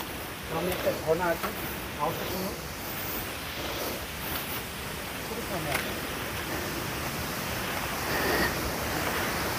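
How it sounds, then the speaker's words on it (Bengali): Broad, continuous rush of falling water from a nearby waterfall in Dalma Wildlife Sanctuary, Jamshedpur, steady and fairly loud, with a voice talking briefly over it early on. "ঝর্ণাটার কাছাকাছি একদম চলে এসেছি, আওয়াজটা কিন্তু একদমই খুব কাছে আসছে"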